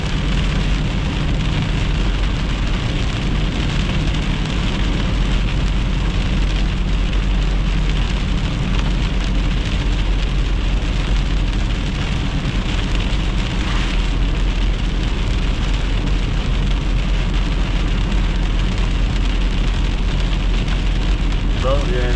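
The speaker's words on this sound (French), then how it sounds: "sur la Rive-Nord, ben, il pleut depuis hier." Heavy rain falling steadily during a summer thunderstorm, a loud, continuous hiss and patter of drops on surfaces close by, unbroken throughout with no voices.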